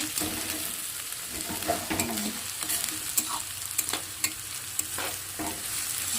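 Grated carrot and beetroot frying in a pan give a continuous sizzle, broken by frequent sharp clicks and scrapes of a spatula stirring, with no one speaking.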